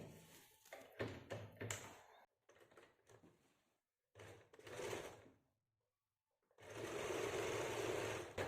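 Sewing machine stitching a seam along the hip allowance of a kameez, running in short close bursts separated by pauses and then one long steady run at the end.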